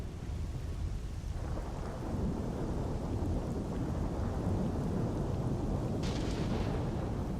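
Steady video game rain hisses throughout with deep rolling thunder rumbling underneath, loud and continuous with no voices.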